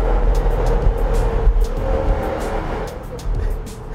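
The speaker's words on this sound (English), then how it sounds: "that's to give you an idea of how insanely loud this car is" A Jaguar F-Type R Convertible's engine rumbles and crackles loudly from inside the cabin, with a steady deep drone and sharp popping bursts throughout.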